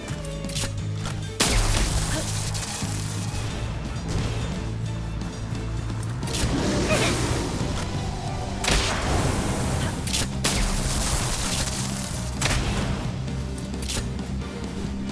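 Gunfire and explosions from the video game Palworld form a dense, loud barrage of sharp bursts and booms, with repeated heavy blasts spread across the whole stretch.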